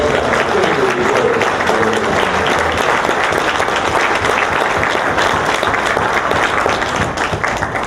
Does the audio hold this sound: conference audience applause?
yes